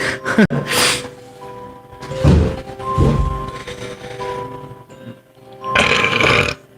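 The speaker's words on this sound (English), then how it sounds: "Something's wrong with my stomach today. I can't stop burping." Repeated burps from a person, several loud, low croaking belches spaced irregularly with pauses between them and faint music in the background.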